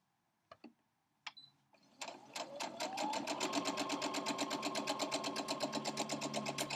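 A domestic sewing machine stitching through a quilt block while chain piecing, with a couple of short clicks before it starts, then a steady, close, continuous fast running hum with a regular mechanical beat, no talking.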